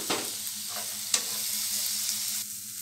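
Tomato and onion frying in a pan, a close continuous sizzle with a few sharp spatula taps and stirring scrapes over about three seconds.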